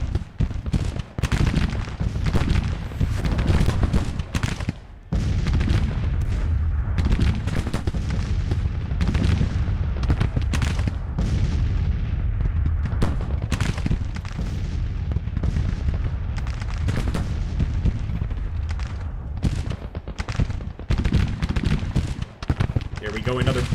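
Musket volleys and artillery fire in a Civil War battle at Bull Run within Grand Tactician: The Civil War, dense repeated booms and crackling shots close and loud throughout, with someone talking over the gunfire.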